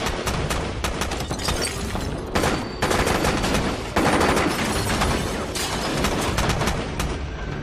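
Heavy gunfire in a town battle, with dense bursts of machine-gun fire and rapid shots crackling almost nonstop, loud and close, with occasional booms.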